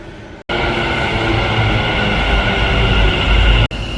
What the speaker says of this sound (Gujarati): તો આપણી મેટ્રો આવી ગઈ ફાઇનલી